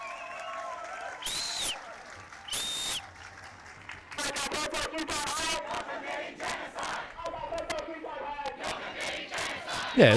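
Voices of a Sydney anti-Herzog rally crowd shout and cheer, starting with a couple of brief bursts, then swelling into sustained loud chanting with scattered whistle-like cries.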